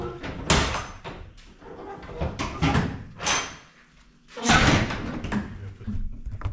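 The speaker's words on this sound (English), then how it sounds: "we always make sure that the doors are locked, secured, all latched up top, latched down here." Rear doors of a piano-moving truck swung shut and latched, giving several loud metallic slams and clunks spread across the moment, with brief quiet gaps between impacts.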